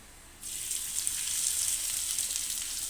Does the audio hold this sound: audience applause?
no